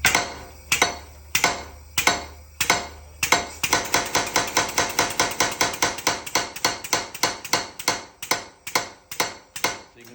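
A pneumatic air hammer running at 25 PSI with one throttle valve choked pounds out loud, sharp blows, first a few slow spaced strikes over a low hum, then a rapid steady hammering that slows again toward the end, with no talking.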